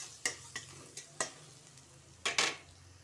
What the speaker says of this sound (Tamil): இதையும் போட்டு நல்லா நம்ம வதக்கி எடுத்துக்கலாம்.